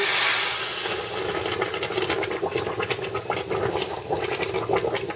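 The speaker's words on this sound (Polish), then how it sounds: "Proszę Państwa, to już mi się posmażyło. Zalewam." Water poured over beef rolls (zrazy) frying in a pot, heard as a loud hissing rush at the start that settles into crackling, bubbling sizzle with scratchy bursts, with no talking.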